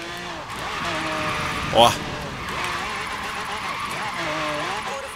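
A Lamborghini Centenario painted in Lightning McQueen livery drifts in Forza Horizon 3, with a steady engine drone and warbling tire squeal, a brief sharper screech partway through, while someone talks over it.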